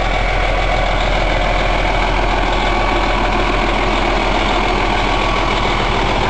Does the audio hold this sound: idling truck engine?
yes